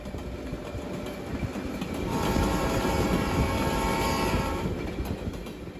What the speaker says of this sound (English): has two of their very own high-hood GP18 locomotives